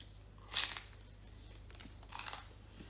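Two separate crisp crunches come from biting into a crunchy Thessaloniki koulouri, a sesame-coated bread ring, with a quiet pause between them and no talking.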